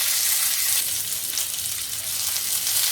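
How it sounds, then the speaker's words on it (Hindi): Onion cubes and paneer cubes fry in a pan for paneer do pyaza, giving a steady, close sizzle with a bright hiss that runs without a break. "इसको हल्का सा फ्राई करूँ। जैसे ही फ्राई हो जाएगा, ये अनियन क्यूब्स हैं"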